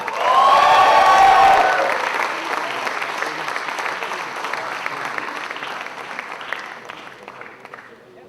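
Crowd applauding and cheering for the Malaysia delegation at a summit closing ceremony, with a burst of loud clapping and whistles up front that settles into steady applause and slowly fades.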